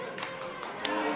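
Clapping at a professional wrestling show comes as a handful of sharp, distinct claps spaced irregularly, moderately close, over a low background hum.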